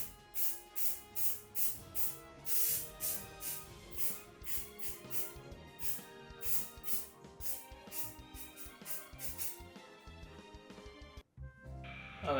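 Aerosol varnish sprayed onto a Game Boy Light: a rapid series of short hissing spray bursts in a regular rhythm, close by, over faint background music, ending in a brief pause and a final burst.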